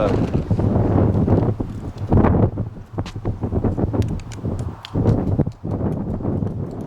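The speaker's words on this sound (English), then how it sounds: "wind's messing around a little bit" Wind buffets the microphone outdoors in Oklahoma as a loud, gusty roar, with horse hooves clopping and someone talking over it.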